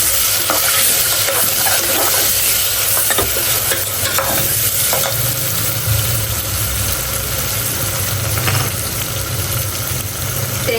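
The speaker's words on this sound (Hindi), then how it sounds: "इधर प्याज को अच्छी तरह से ब्राउन कर लेना है। प्याज ब्राउन हो जाए, इसके अंदर हमने टमाटर डाल देना है।" Onions and tomatoes fry in a pan with a constant hiss and sizzle, while a spoon stirs and scrapes in irregular knocks throughout; a low steady hum sits underneath and no one speaks.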